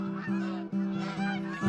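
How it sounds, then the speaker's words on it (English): Geese honk repeatedly in a steady, overlapping chorus, loud and close, with several calls following one another over a brief stretch, in the hunting game theHunter: Call of the Wild. "The geese comes flying."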